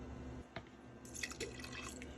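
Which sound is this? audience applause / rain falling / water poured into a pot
water poured into a pot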